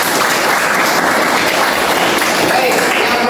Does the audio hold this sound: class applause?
yes